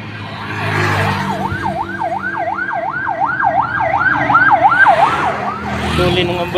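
A rapid warbling ambulance siren wails continuously and loudly nearby over traffic rumble.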